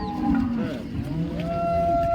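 At the Modnimb cattle market, a cow lets out a low, drawn-out moo, loud and close, over steady outdoor market noise with no talking.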